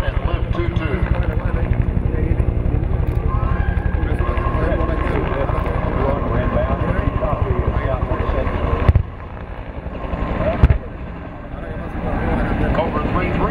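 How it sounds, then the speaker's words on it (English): Two UH rescue helicopters fly inbound, a continuous loud rotor and engine drone with steady thumping, mixed with wind noise and a couple of brief clicks. "The rescue team is inbound with the 2 UE helicopters, call signs Lift 21 and Lift 22"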